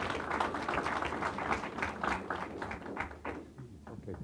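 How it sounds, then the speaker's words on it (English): An audience at a Pacific Island health report launch breaks into steady applause, dense overlapping hand claps from a moderately sized crowd heard at a middle distance, tapering off toward the end. "A round of applause."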